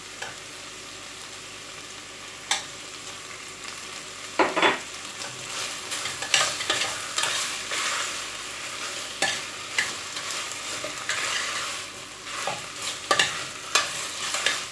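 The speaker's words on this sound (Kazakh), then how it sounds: "Пиязы әбден қуырылғанға дейін қуырып, және оған томат қосамын." Onions and tomato sizzle steadily in a hot pan while a utensil scrapes and stirs, with irregular clinks and scrapes throughout.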